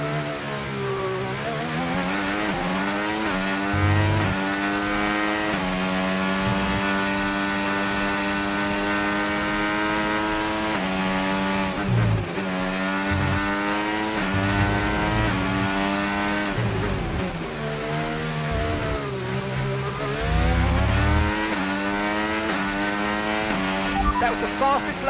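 Engines of F1 race cars in a racing video game, screaming high and rising through the gears with repeated shifts and lifts, loud and continuous, with a voice talking over them at times.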